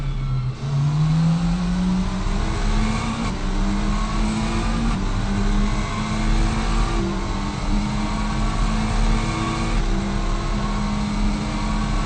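McLaren race car engine in the RaceRoom racing game at Bathurst, revving loudly and steadily throughout with rising and falling pitch as it accelerates, a continuous close-up drone with no talking.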